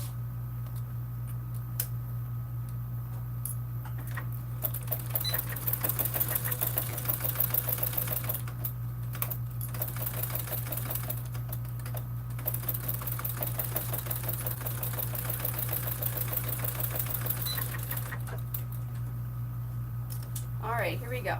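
A domestic sewing machine runs continuously with a fast rattling stitch over a steady motor hum while a bag seam is sewn, with brief pauses in the stitching.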